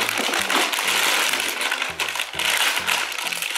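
A bag of small clamps dumps out and spills, giving a quick run of clattering plastic-and-metal rattles and knocks, close and fairly loud, with no talking.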